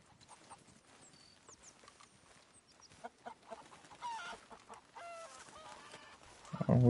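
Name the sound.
Leghorn chicken clucking in Red Dead Redemption 2 video game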